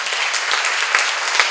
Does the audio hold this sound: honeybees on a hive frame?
no